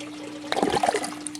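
An aquaponics bell siphon drains water and sucks air, giving a short burst of close, wet gurgling and trickling over a steady background hum.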